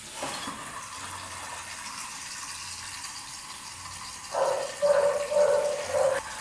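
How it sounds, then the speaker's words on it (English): Tap water runs steadily to wash developed 35mm black-and-white film at home, a soft continuous rush that swells into louder splashing gushes toward the end. "you just have to put it with running water about 8 to 10 minutes"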